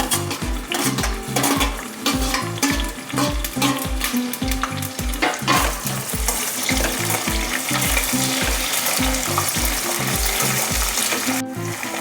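Onions fry in a pan for mushroom biryani, a loud, constant sizzle close by, cut through by a steady rhythm of stirring strokes and scraping against the pan, with no talking.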